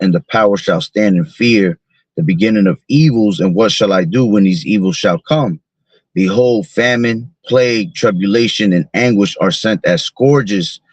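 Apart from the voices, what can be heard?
No distinct noise like a dog, phone or traffic.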